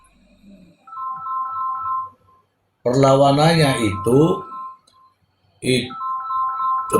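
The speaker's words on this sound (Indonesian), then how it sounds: "ada telepon teman-teman" A telephone ringtone sounds twice as a bright, repeating electronic tone. A person talks in the gap between the two bursts.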